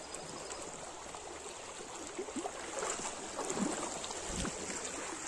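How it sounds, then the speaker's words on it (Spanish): Water from a mountain stream rushes steadily with a bright, hissing babble, close and continuous with no voices over it. "Ahí viene lo que es el agua dentro de las montañas."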